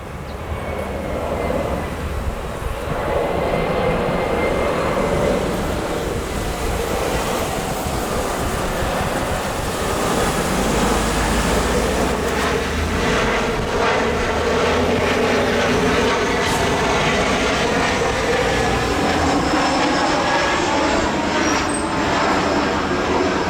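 A United airliner on instrument approach passes overhead at about 112 knots, a loud sustained engine roar that holds steady throughout with broad rumbling and a faint whine.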